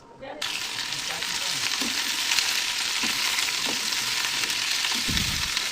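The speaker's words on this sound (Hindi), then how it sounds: "अब मैं डालूंगी इसमें प्याज।" Onions sizzling and frying in mustard oil with cumin seeds in a kadai, a steady close hiss with occasional stirring clinks and scrapes.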